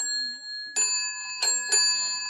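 An old brass bell, found among scrap metal, is struck three times at uneven intervals, each strike ringing out with bright, sustained metallic overtones that linger; a few faint murmurs come before the first strike.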